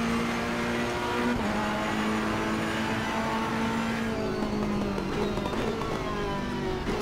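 Race car engine in Assetto Corsa Competizione at Watkins Glen, holding a steady high drone with gear-linked pitch shifts as it brakes and downshifts into turn one, loud and continuous with no talk.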